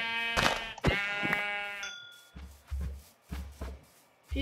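A Minecraft sheep lets out two long, wavering bleats up close, followed by a few dull thumps and soft rustling.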